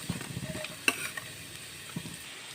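Finely chopped onion and carrot sauté in oil in a pan, a quiet, steady sizzle broken by a few sharp stirring clicks and scrapes, with no voices.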